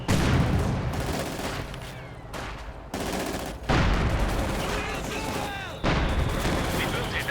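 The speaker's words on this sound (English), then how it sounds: "Panzer's Marine mortar rounds going down." Mortar rounds fire and explode in Company of Heroes 2, a World War II strategy game, as loud, dense booms and rumbling blasts in several overlapping waves. A commentator talks over the barrage.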